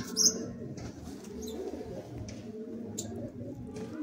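Male Madrasi pigeons in a loft in Kharagpur give soft, low, continuous cooing up close, overlapping in throaty waves, with a brief sharp chirp at the very start.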